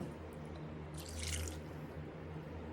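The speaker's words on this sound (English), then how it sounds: "I'm going to run over there and put me enough water in there to make it 1/3 cup" Water splashing briefly from a tap or cup into a cup of buttermilk, one short burst of liquid over a low steady hum, close by, with no talking.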